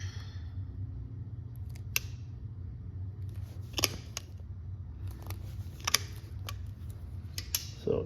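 Holes being made in a two-layer hand-sewn leather belt for Chicago screws, with a few sharp, isolated clicks and snaps over a steady low hum in a quiet room and no talking.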